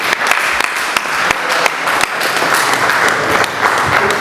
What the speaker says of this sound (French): si vous pouvez l'applaudir